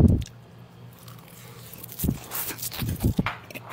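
Nori-wrapped food being bitten and chewed up close in ASMR style, a few soft crunchy bites and squishy chews separated by quiet pauses.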